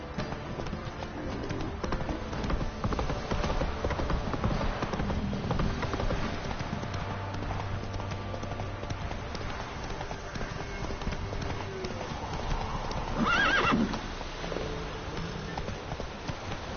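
The horse Roach gallops in The Witcher 3, its hooves clip-clopping in a steady, continuous rhythm. The sound sits amid dense ambient game noise and stays fairly loud throughout.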